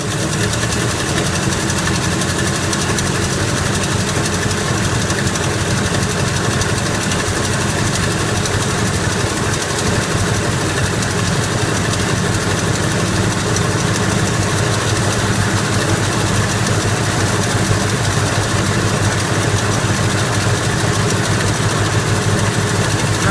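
A steady, loud old car engine drones continuously with a rough, rattling hum and no clear pauses as it is revved.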